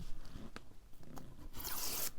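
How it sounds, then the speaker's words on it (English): Paper being torn along the edge of a ruler, a series of short dry rips and scrapes close by, ending in a longer, brighter tearing stretch. "I don't know why I'm using that ruler to tear rather than the metal one"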